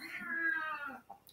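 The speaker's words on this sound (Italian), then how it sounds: "Scusate, sempre il gatto." A domestic cat lets out one drawn-out, wailing meow close by, rising and then falling away, followed by a short softer sound.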